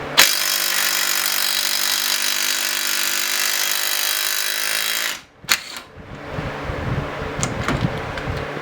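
A Snap-on cordless impact wrench torquing a fastener to 100 foot-pounds, a loud steady motor whine with rapid hammering for about five seconds, then a sudden stop, a sharp clank and quieter handling noises.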